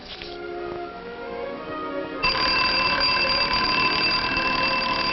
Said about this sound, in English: she got up when the alarm went off